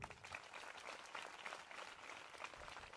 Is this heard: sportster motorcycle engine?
no